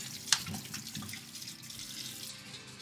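A kitchen tap runs steadily into a sink as potatoes are washed under it, with a small clack near the start and a constant close gush of water.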